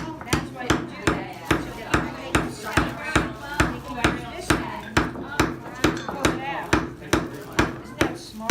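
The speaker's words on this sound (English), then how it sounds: "I'm going to hammer it." Steady, evenly spaced hammer blows drive together a pair of wooden bookworm bookends from a Home Depot kit, about sixteen sharp knocks ringing out close and loud with no talking.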